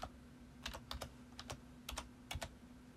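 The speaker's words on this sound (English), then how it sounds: "I'm just going to type in John Street" Quiet, sparse keystrokes on a computer keyboard, a few separate clicks and short clusters against a faint steady background hum.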